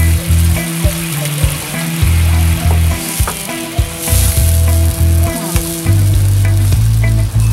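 Blackberry brandy sauce for chicken sizzles and fries steadily in a pan, a loud close crackle with brief stirring scrapes and short dips throughout, with no talking.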